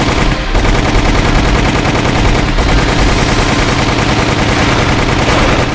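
Sustained rapid gunfire in Resident Evil with Jill Valentine during a Raccoon City fight against a tentacled creature, loud and continuous automatic bursts filling the whole stretch with only brief dips.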